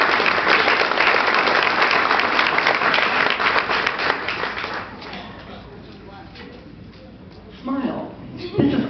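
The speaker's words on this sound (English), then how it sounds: "a big round of applause for helping us put together this great ceremony" Parents and guests at an elementary school graduation ceremony in Colorado Springs applaud the PTA and the parents. Loud, dense clapping lasts about five seconds, then fades into scattered claps and murmuring, and a few claps return near the end.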